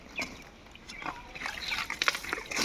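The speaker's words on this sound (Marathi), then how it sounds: "याच्यात पाणी टाक पाईप टाक आता. स्वच्छ पाणी घरात जाईल." Water trickles and splashes irregularly from a pipe beside a low riverbank, gurgling faintly and building slightly toward the end.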